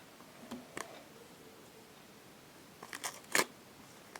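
A few brief crinkly rustles and tearing sounds of a paper surprise packet from a supermarket collection being opened up close, in two short bursts separated by quiet.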